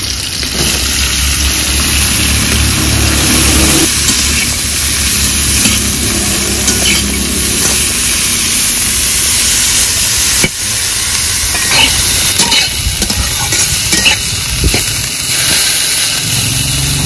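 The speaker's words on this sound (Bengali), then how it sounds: "পটল একটু ভেজে নিয়েছি" Pointed gourd (potol) fries in a pan with a seasoning of spices and slit green chillies, a loud close sizzle with hiss. A low rumbling hum sits underneath, and scraping stirs break in now and then.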